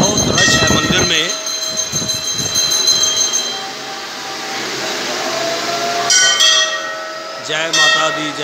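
Temple bells ring with bright sustained metallic tones at the crowded Mansa Devi temple entrance on a busy Sunday, struck repeatedly amid a loud crowd murmur, with fresh strikes near the start, around six seconds and near eight seconds.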